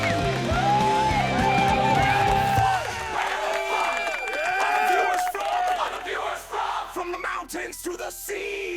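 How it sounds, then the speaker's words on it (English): Crowd cheering, whooping and applause sound effect, loud and sustained at first, then thinning into scattered shouts and claps. "Let me give you a round of applause"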